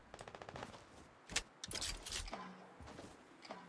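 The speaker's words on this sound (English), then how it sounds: "The guy's shooting me." Gunfire in the Fortnite video game during a close-range fight, with scattered shots and short bursts alongside clicks and rattles of game effects, fairly close and moderately loud, with no talk over it.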